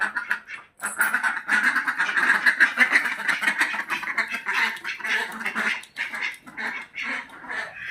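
Close, loud duck quacking goes on without a break for several seconds, many birds calling over one another in a busy, raspy chorus with no voices.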